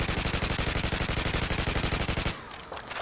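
A TAR 21 assault rifle fires a sustained, rapid, evenly spaced automatic burst in Modern Warfare 2, loud and close, then cuts off into a short fading tail.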